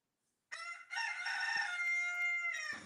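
A rooster crows once in a long, strained cock-a-doodle-doo lasting over two seconds, fairly close and heard alone against quiet.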